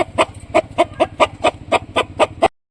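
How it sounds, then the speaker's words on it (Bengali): A large native desi rooster clucks in a quick, even series of about ten sharp, close clucks, then stops. "মোরগ, বড় মোরগ, দেশি মোরগ এটা"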